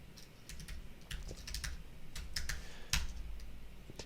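Command typed on a computer keyboard, a quiet close series of irregular key clicks and taps over about four seconds with no talking.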